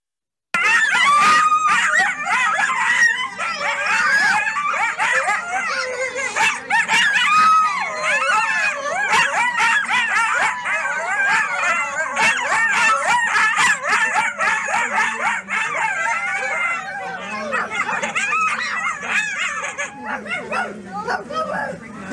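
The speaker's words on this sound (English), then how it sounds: "I'm going to try to play you some coyote calls" Recorded coyote calls played back: a loud, close chorus of overlapping yips, wavering howls and shrill yelps that runs continuously.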